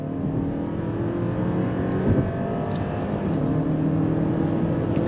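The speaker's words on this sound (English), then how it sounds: "I'm gonna come to a complete stop. We're gonna go on throttle." A 2024 Mercedes-Benz GLE 450e plug-in hybrid SUV pulls away from a standstill. Its steady motor whir and road noise build smoothly from inside the cabin without any voices.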